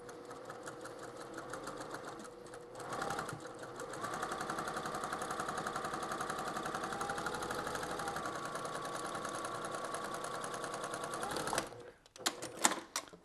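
A sewing machine stitches a quarter inch seam on a free pieced log cabin quilt block, running in a steady, fast, even whir for several seconds before stopping, followed by a few brief handling clicks.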